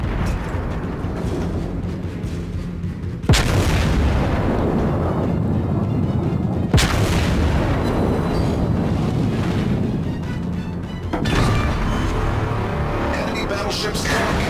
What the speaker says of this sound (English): I'm gonna go full volley at this guy